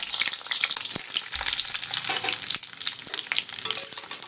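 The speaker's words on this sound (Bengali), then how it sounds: "এবার আমি বেগুনগুলো ভেজে নেব।" Eggplant pieces fry in hot mustard oil in a kadai, giving a loud, steady sizzle close by with occasional stirring clatter, and no voices.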